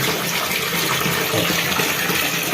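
A bathroom tap runs at full flow, a loud, steady gush of water splashing close by, unbroken for the whole stretch with no voices.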